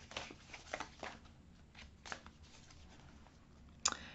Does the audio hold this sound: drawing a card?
yes